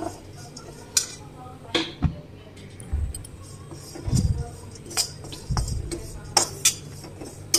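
Metal ladle scraping and clinking against an iron kadhai while one cup of oats is stirred and dry-roasted, with irregular knocks and soft scraping strokes across the clip.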